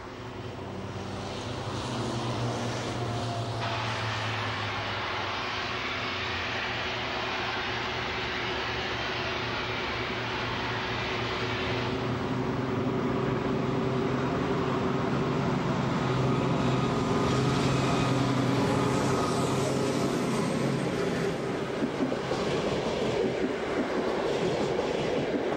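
A DB V200 diesel locomotive pulls out of Berlin-Wannsee station, its heavy engine drone building steadily and growing louder over about twenty-five seconds, with rail rumble and clatter and no voices.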